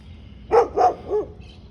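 Street dogs in Thailand bark three times in quick succession, close and fairly loud, each bark short and rough, with no talk over them.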